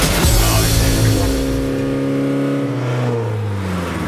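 A Peugeot 205 GTI fitted with an exhaust baffle is held at high revs during a trackside noise test, its loud, steady engine drone gradually easing and falling in pitch, close by and without talk.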